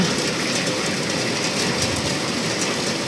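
A dense, steady downpour of heavy rain roars close by without letting up, an unbroken hiss with no clear thunder rising above it.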